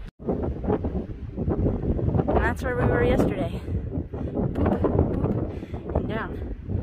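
Steady wind buffets the microphone on a sunny, windy day on the Appalachian Trail, a loud continuous rumble running under someone talking throughout.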